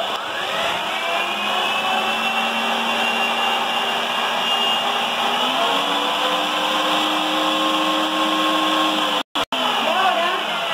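Electric mixer whirring steadily through chocolate cake batter made with milk chocolate, a continuous close motor drone with a pitch shift midway and a brief cutout near the end.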